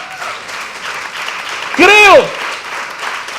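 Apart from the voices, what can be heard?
applause in church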